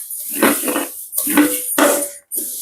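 Coriander seeds being dry roasted in a pan give off bursts of rattling, clinking metal scrapes in three or four close, loud waves, with brief pauses between them and no talk.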